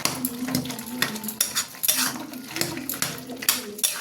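A spoon scrapes and knocks through vegetables and pumpkin pieces in a pan, giving repeated rhythmic clatters and scrapes over a faint simmering sizzle, close by.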